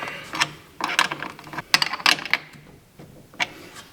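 A wrench snugs the nut onto a battery terminal, fastening the red positive wire on a dump trailer: several short, close bursts of crisp ratcheting clicks with brief pauses between, no talking.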